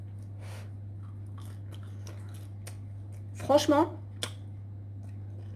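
Biting into and chewing a homemade no-knead loaf, a short crunchy burst close up followed by a brief click, with a steady low hum underneath and a few spoken words in French.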